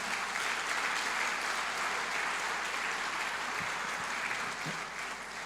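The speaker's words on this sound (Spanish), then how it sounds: "déle ese aplauso al Señor, no se detenga" Congregation applauding for the Lord inside a church, a steady wash of many hands clapping that holds evenly from start to finish, fairly distant and with no voice over it.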